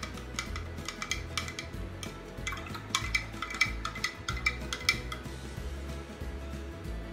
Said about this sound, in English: I'm gonna give it a quick stir.